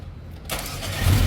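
Mercedes-AMG engine cranking and firing up on a Nanex battery: quiet lead-in, then a sudden catch into a loud, rising rumble close by.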